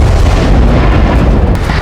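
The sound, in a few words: missile explosion near Lviv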